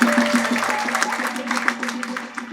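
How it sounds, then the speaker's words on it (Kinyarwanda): A church congregation claps in a steady patter of applause. Some quiet voices or a tone sit underneath it throughout. "Dukomere Imana amashyi."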